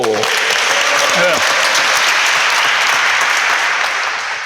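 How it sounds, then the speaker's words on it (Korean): The audience at a Korean civic forum on a specialized labor court breaks into loud, sustained applause that fills the hall. A host's voice is heard briefly at the start before the clapping takes over. "박수!"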